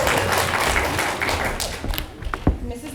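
Applause from a theatre audience at a Clue musical, a brief patter of claps that thins into scattered individual slaps and taps toward the end.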